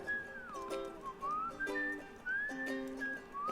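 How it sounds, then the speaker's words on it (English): A person whistles a meandering, sliding tune close to the microphone, with soft background tones underneath. "Sorry, I should stop whistling."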